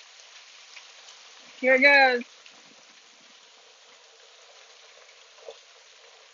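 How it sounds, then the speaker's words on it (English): A hail and rain storm with lightning hisses in a steady, even wash of falling ice and water, and one person speaks briefly partway through. "it's hailing"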